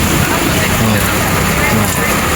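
Steady rain hisses down loud and close over a street market where vendors keep selling, and a voice talks over the wash of the downpour.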